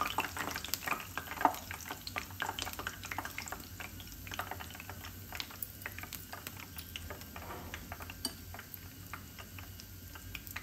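Vadas, the savoury lentil fritters, fry in hot oil, giving a steady, soft sizzle with scattered small pops and crackles throughout, fairly quiet and without talk.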